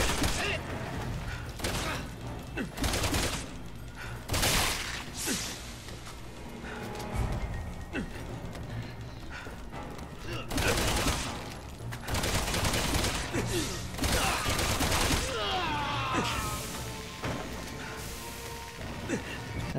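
Gunfire in Resident Evil 6 on PS4, irregular loud bursts and single shots spread across a long stretch, with clanks, thuds and voices between them.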